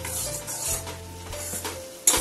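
Red chili powder and coriander powder being stirred into tomato puree in a pan while cooking potato sabzi, with soft scraping and a light sizzle and a sharper clink of the spoon near the end.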